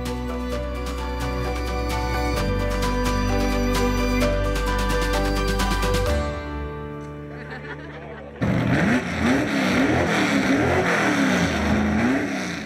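Racing cars rev at the Longford race weekend, with a loud sustained engine drone and shifting pitch, then an abrupt change into a rougher, wavering engine tone. Light chuckling may be heard.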